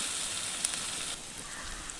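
Jackfruit curry frying in a pan with tomato, cumin paste and turmeric, giving a steady close hiss and sizzle with a brief crackle partway through and no talking.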